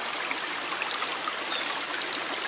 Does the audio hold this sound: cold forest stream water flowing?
yes